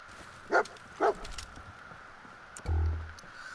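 Two short dog barks from the video game Fallout 4, spaced about half a second apart and fairly close, followed by a low rumbling thud, with no talking.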